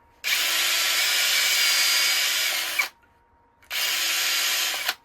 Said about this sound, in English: I might as well drill the other one while I'm here.